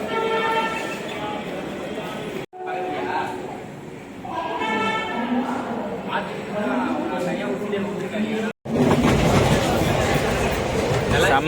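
A train sits at a railway platform in Coimbatore, with rumbling carriages and station noise. People talk over it throughout, and a brief pause interrupts the sound twice.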